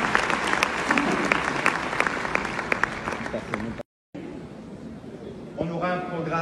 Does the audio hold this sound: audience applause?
yes